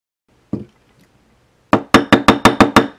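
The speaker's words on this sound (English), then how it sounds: "So we're going to get the hammer." A hammer strikes wire for a wirework bracelet: one early tap, then a quick run of seven sharp, loud, evenly spaced blows, close by with no talking.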